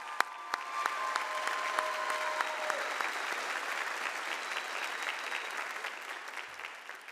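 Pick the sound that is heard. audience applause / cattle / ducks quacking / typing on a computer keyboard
audience applause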